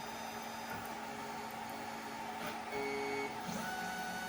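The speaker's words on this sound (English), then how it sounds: "Now the nozzle is moving." Snapmaker 2.0 A350 3D printer with its nozzle moving, giving a steady mechanical whir and faint motor tones throughout, with a slight rise in pitch partway through and no voices.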